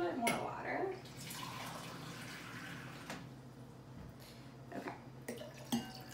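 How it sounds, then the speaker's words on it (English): Water splashes and trickles into a container for a few seconds, fairly close, with a faint voice speaking near the end. "we're going to pour some water in the jar so it's mostly full"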